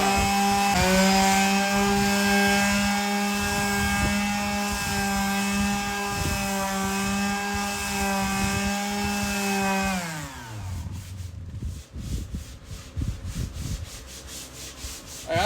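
An electric sander with a suspected voltage problem runs with a loud, steady buzzing whine for about ten seconds, then winds down and cuts out, leaving only scattered rubbing and handling noises.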